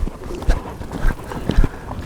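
A mare lopes around a riding arena, her hoofbeats landing in soft, near three-beat thuds that repeat roughly every half second, heard alone without talk.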